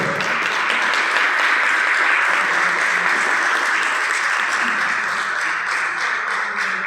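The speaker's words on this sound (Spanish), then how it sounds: "Un aplauso." An audience at a formal ceremony breaks into applause, dense sustained clapping that stays loud and even for several seconds before easing slightly near the end.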